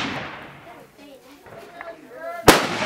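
A single sharp, loud rifle shot from a Mosin Nagant cracks out at an outdoor shooting range near the end, after a stretch of people talking.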